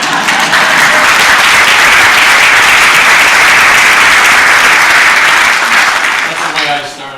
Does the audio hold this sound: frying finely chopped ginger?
no